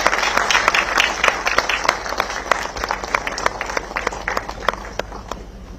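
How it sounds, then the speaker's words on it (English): Audience at a defence space symposium clapping in a large hall, a steady patter of individual claps, moderately loud and continuous, with no voices over it. "Maybe please have a big round of applause."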